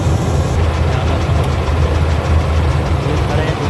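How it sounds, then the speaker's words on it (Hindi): Two paddy harvesting machines run together on the last day of rice harvest, a steady, loud low engine drone with mechanical clatter filling the field, continuous throughout with no break. "ये चल रही है दोनों मशीनें"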